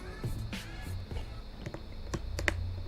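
A few small mechanical clicks sound up close as the lock on a Gucci bag snaps shut, quiet and sharp against soft rustling handling noise.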